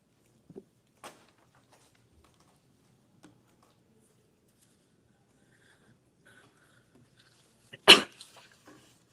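A single sharp sneeze in a quiet congressional hearing room, sudden and fairly close, after several seconds of near silence with faint small noises.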